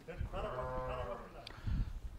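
A young male lamb bleats in a long, wavering call at close range in a sheep pen, followed by a brief sharp sound and a low muffled thump.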